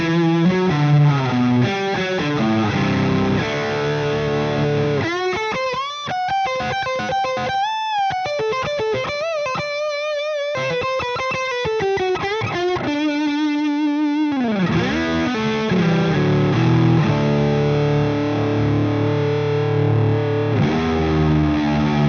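Electric guitar with both pickups combined through a high-gain distorted amp, chords and single notes sustaining thick and clear, a bending lead line in the middle, loud and continuous with no talking.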